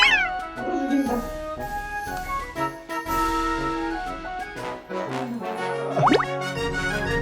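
A cat meows and yowls loudly over busy, continuous music with game-like sound effects.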